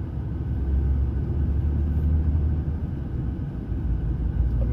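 Bitrem truck shifting into first gear and braking to start a descent, heard as a steady low engine rumble that stays even and moderately loud throughout, with no talk.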